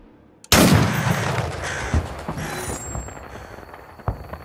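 A single loud, sharp gunshot from a video game trailer cracks out after a brief quiet, followed by a long reverberating tail that fades slowly, with a smaller thump near the end.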